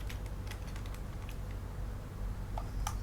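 Keyboard clicks from someone typing code on a computer keyboard, a quick irregular patter of light keystrokes over a steady low hum, with a few sharper taps near the end.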